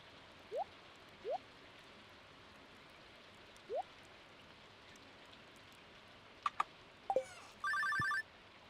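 An unanswered telephone in the game Moonday Rando rings in a few short, separate bursts that rise in pitch over quiet background hiss, ending in one longer buzzing ring.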